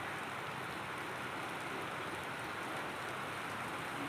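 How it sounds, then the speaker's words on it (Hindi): Heavy monsoon rain falls steadily and densely on surfaces around a rooftop, a constant close hiss with no pauses. "बरसात हो रही है।"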